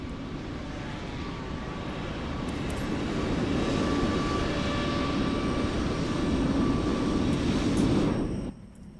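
A Toliss A321N airliner's engines spooling up inside the X-Plane 12 flight simulator, a steady, building roar with a whining tone, close and loud, cutting off abruptly near the end.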